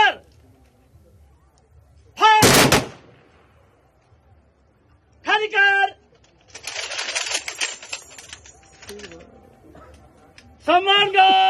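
Police ceremonial gun salute at Shivneri fort for Shiv Jayanti: a single loud, sharp rifle volley cracks out between loud shouted parade commands, with a quieter stretch of crowd noise afterward.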